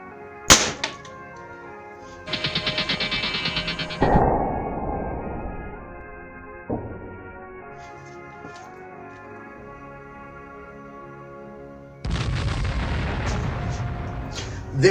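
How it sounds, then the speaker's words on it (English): A Crosman 2240 air pistol fires at clay targets outdoors, giving several sharp, separate reports spaced seconds apart, each followed by a brief ringing tail, with quiet gaps between shots. "It's time to shoot some clay."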